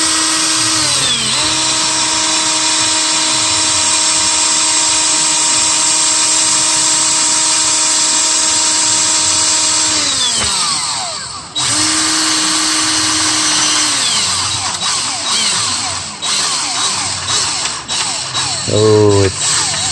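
A power drill bores out a stuck EGR bolt on a 6.7 engine: a loud, steady motor whine that winds down, stops, then restarts in shorter, uneven bursts as the bit bites.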